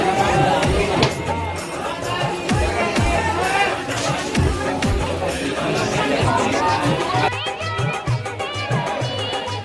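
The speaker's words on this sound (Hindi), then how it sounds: "देख सकते हो किस प्रकार से भीड़ उमड़े हुए हैं" A dense crowd mills at a village fair where people have gathered to view Durga idols, with loud overlapping chatter, shouting and general hubbub throughout.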